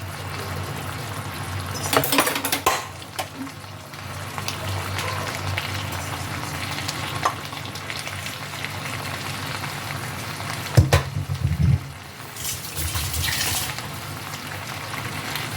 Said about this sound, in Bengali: ম্যাগিটাকে মশলার সাথে ভালোভাবে মিশিয়ে নেব।